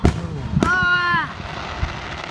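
A small firework pops sharply, followed by a second crack and a brief whistling, crackling burst, with people talking under the outdoor display.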